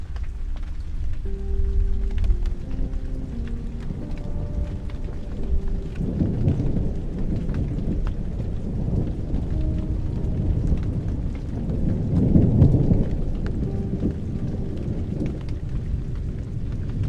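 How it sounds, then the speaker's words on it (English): Steady rain with rolling thunder from a Muse S Athena sleep-biofeedback storm soundscape, a continuous wash of rainfall with low rumbles swelling around the middle and again near the end, no voices. "the rain and thunder get louder when you're more agitated, and as you relax and drift off, they fade away"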